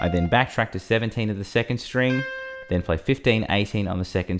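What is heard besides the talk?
No everyday noise stands out behind the speech.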